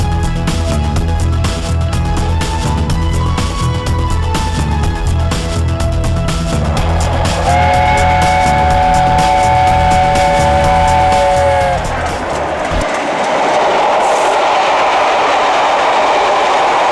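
A train travels along a railway line between Stourbridge and Rugeley, its loud, close rumble and clatter continuous, with a sustained horn or whistle tone sounding for several seconds before the noise shifts to a hissing rush.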